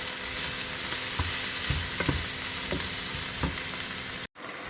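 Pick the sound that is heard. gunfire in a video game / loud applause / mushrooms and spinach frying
mushrooms and spinach frying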